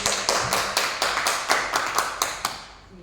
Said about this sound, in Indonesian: Beri tepuk tangan untuk Saudara Dedi